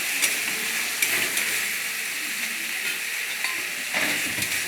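Chopped tomatoes frying in a pan with onion and ginger for a fish curry, a steady loud sizzle with occasional stirring scrapes throughout, close.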